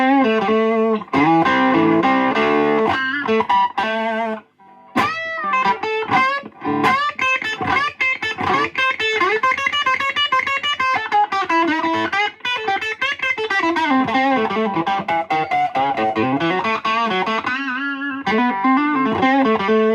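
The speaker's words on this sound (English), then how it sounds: "I'm using the Greg Koch little heat overdrive pedal." A 1971 Gibson SG 200 electric guitar plays a continuous run of overdriven notes and chords through a Greg Koch Little Heat overdrive pedal, loud and close, with a brief pause near the start and no talk.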